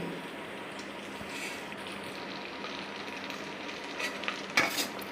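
Green chilli slivers and potato pieces frying in a pan for mint rice, a steady broadband sizzle with occasional stirring scrapes and a few sharper clatters near the end, no talking.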